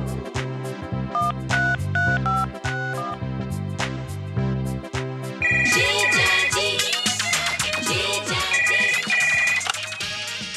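A loud electronic phone ringtone plays a looping melody, shifting midway into a brighter, busier tune with chiming notes, no voices.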